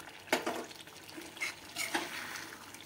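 A spoon stirs grated paneer into a thick shahi paneer curry in a pot, a few soft scraping and squelching strokes spaced about half a second to a second apart, quiet and close.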